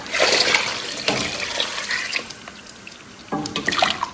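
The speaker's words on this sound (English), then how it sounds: "I'll go in with water" Water pours and splashes steadily into a pot of Ghanaian peanut soup, close and fairly loud, with a fresh surge near the end.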